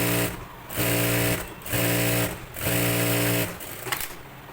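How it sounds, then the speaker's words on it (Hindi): A sewing machine stitches a decorative booti stitch on a neck design in short bursts, its rapid mechanical whir starting and stopping about four times with brief pauses between runs, with no talk. "अब इसका जो दूसरा साइड है इधर भी मैं एक बूटी सिलाई लगाऊंगी।"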